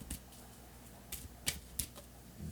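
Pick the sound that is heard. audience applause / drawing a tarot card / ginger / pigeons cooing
drawing a tarot card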